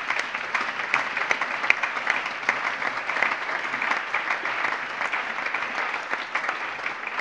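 Sustained applause in a parliament plenary session, dense and even clapping from many hands filling the hall throughout without a break.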